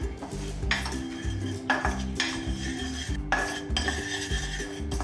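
A metal spoon scrapes and clanks against a pan while masala spices are stirred and dry-roasted, in repeated rhythmic bursts over a low, steady musical tone.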